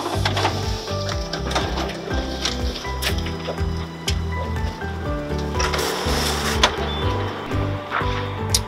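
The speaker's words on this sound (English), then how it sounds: "we're going to start off by making a copy using your ABF, which will be similar on most machines" Photocopier running a copy through its automatic document feeder, a steady mechanical whir with rhythmic rolling and clunking as paper feeds, loud and close throughout.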